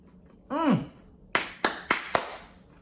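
A brief breathy vocal sound, then four sharp crunches in quick succession as beer-battered fried cauliflower is bitten and chewed up close.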